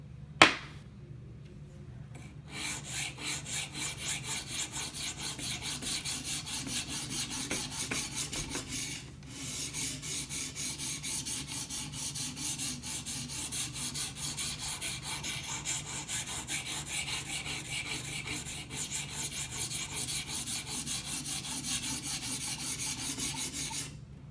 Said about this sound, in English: I'm using a diamond stone here